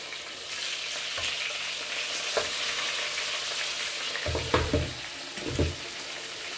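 Chopped liver and onions frying in a pan, a steady broad sizzle throughout with a few soft scraping stirs and thumps near the end, close and alone.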